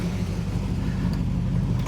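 Car with freshly overhauled brakes reversing slowly, a steady low engine rumble close by, continuous and without talk.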